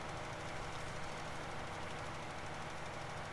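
A tractor engine in Farming Simulator 19 drones steadily at a constant idle-like pitch, a dense uninterrupted rumble with no talk over it.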